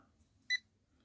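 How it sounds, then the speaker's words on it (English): One short, faint electronic beep from a cube timer alarm stands out against quiet room hiss, with nothing else around it. "Oops, that's my alarm timer, which is still on."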